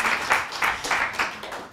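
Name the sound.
conference audience applause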